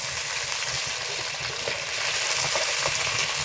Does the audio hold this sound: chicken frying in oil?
yes